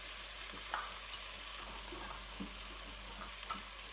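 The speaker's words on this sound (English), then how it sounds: "So I'm now going to stir that all together. You can see how the zucchini is really starting to reduce down." Zucchini sizzles steadily in a pan while a utensil stirs through it, soft scraping taps over a constant close frying hiss, no talking.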